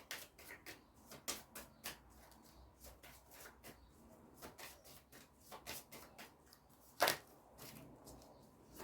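Oracle cards are shuffled and drawn by hand, with soft repeated riffling and flicking bursts at an uneven rhythm, close and fairly quiet, with one sharper snap near the end.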